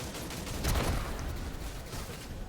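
Enemy explosions in a fire-themed action game sound as a burst of crackling, gunfire-like blasts peaking early, then a dense rumbling rattle that carries on without let-up.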